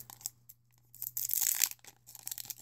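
Foil wrapper of a Pokémon Breakpoint booster pack tearing open up close, a quiet crinkly rip with a louder burst in the middle and short crackles on either side, no talking.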